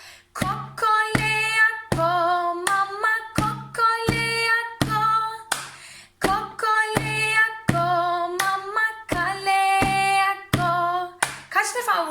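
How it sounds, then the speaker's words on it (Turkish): Hand claps and body-percussion slaps in a steady, repeating rhythm for the Kokoleoko activity, loud and close, with sung or chanted vocals running over the pattern throughout. "1, 2, 3, 4'te alkış."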